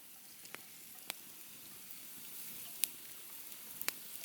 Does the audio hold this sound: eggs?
yes